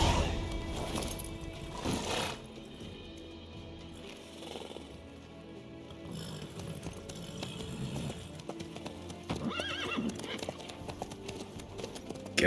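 Horse hooves clip-clopping in the Witcher 3 video game, a steady rhythmic trot running under game music and spoken dialogue between characters.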